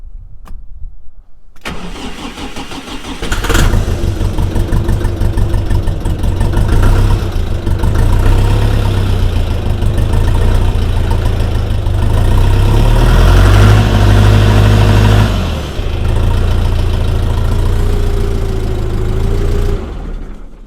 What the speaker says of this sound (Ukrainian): Давайте заведу, послухаємо роботу движка.